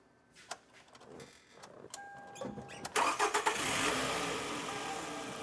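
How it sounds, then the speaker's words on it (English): A Toyota Camry engine cranks with a few short bursts, catches, and settles into a steady idle, close and fairly loud, with no talking. "So the engine is running, as you can hear."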